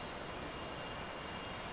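Steady, uniform engine roar of a UH-60L Black Hawk helicopter in a flight simulator mod after start-up, a constant broadband whine and rumble with no variation or voices, moderately quiet.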